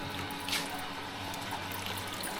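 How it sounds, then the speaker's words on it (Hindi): Faint running water trickles and splashes as dishes are washed in a village home, a soft continuous flow with a few light clinks and no talking. "बर्तन धो रहे हैं।"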